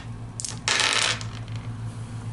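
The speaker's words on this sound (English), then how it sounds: "Roll some dice here." A handful of fifteen dice rattles and clatters across a table for a board game, a short burst of clicking tumbles that settles into a few scattered ticks, close up, over a steady background hum.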